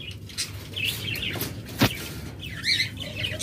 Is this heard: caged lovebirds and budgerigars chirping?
yes